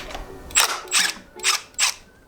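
Four quick ratchet bursts, close and crisp, tightening a new Turner front sprocket on a 2001 Honda CR250 motocross bike, each burst separated by short pauses.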